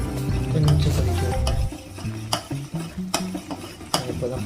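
Chocolate ice cream mixture made with cocoa powder, stirred in a pan as it simmers on the stove, with a spoon scraping and clinking against the pan over a soft bubbling hiss, heard close up.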